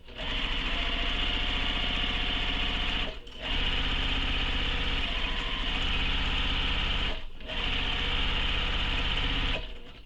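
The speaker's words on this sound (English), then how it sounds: "we're going to sew that seam with the seam allowance given in the pattern" A sewing machine stitches a seam on a tote bag in long, loud, close runs of rapid, even needle pulses, with two brief pauses where the fabric is adjusted before sewing resumes.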